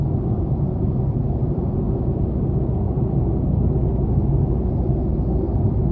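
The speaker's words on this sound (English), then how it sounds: "the road noise is actually not as bad as I would expect from a car" Steady low rumble of road and tire noise inside a 2021 Chevy Spark LT Special Edition on the move, a continuous even drone with no talk over it.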